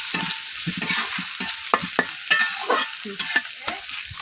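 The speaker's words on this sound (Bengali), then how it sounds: "এই যে আমার পেঁয়াজ রসুনটি কিন্তু লাল লাল করে ভাজা হয়ে গেছে" Onion and garlic sizzle in a hot pan while a spatula scrapes and stirs in quick, irregular strokes, close and clear.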